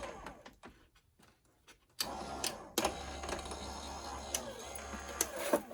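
A cutting machine slices through tulle and organza trim: a few faint clicks, then a louder steady mechanical whir with a low hum and intermittent ticks and clacks as the material feeds through.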